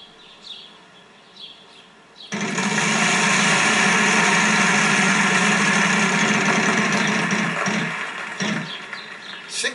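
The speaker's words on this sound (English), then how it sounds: "gotta spin the wheel" A spinning prize wheel in the Wheel of Fortune video game on PS3 gives a loud, steady whirring rattle that starts abruptly after a brief quieter stretch and runs continuously for several seconds before easing near the end.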